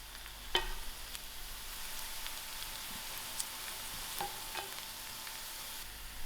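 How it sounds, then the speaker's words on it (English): Mustard seeds pop in hot oil in a pan, giving a faint, steady sizzle with scattered sharp pops and crackles at irregular intervals. "I'll add in my mustard seed and allow this mustard seed to pop."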